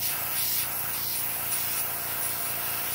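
White base-coat paint sprays from an aerosol can onto a wooden clothespin fishing lure, a loud, close, continuous hiss that runs steadily throughout with no pauses or talk.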